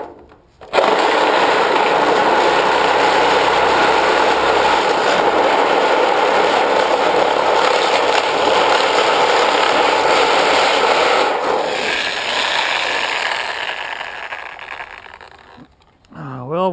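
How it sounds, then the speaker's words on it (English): A Sawzall reciprocating saw cuts through scrap metal with a loud, harsh, continuous buzzing rasp that runs for about eleven seconds and then winds down and stops. "See if the Sawzall is going to cut it or if it's going to give me a headache."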